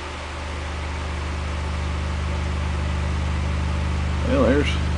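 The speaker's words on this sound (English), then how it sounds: "So I'm going to hit it about 25 cycles" A 25 Hz test tone plays through a TB Ultra 8D2 subwoofer as a steady, deep droning hum with a buzzy rattle above it, and a brief voice cuts in near the end.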